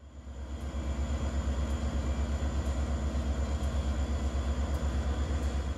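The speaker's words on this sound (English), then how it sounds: "This locomotive has been on the leading end most every day for the cable train." MPI MP20 GP-3 locomotive leading a cable train, giving a steady, loud diesel rumble with a low engine drone that holds throughout and a faint rhythmic pulsing on top.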